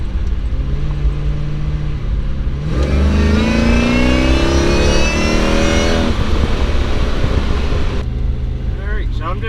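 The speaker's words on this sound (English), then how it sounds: "I'm just going to give the tires a real quick scrub and then do like a 0 to 60 launch here" A blown Jaguar XJS engine revs hard for several seconds as the tires scrub, a loud rising and falling roar close by that cuts off abruptly and drops back to a steady idle.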